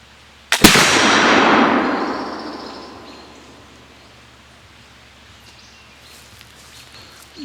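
A single sharp report from an Early Lancaster County rifle firing a .45 caliber ball at 50 yards, loud and close, followed by a long hissing, rolling decay that fades over several seconds into quiet outdoor air.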